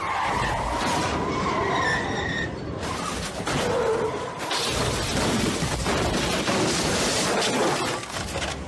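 A truck losing control and skidding, with loud, sustained tire screeching and rumbling across the whole stretch and no speech.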